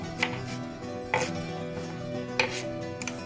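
A carrot being chopped on a cutting board for Uzbek plov, giving four sharp knife strikes spaced roughly a second apart over faint background hum.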